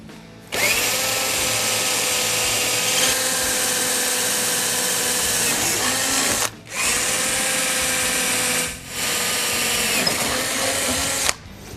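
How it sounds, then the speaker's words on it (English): A power drill bores pilot holes along the edge of a Ski-Doo Summit Rev XP snowmobile tunnel, a loud steady whine running nearly nonstop with two brief pauses between holes, close and alone. "I drilled out 1, 2, 3, 4, 5, 6, 7, the 7 pilot holes along the edge of the tunnel"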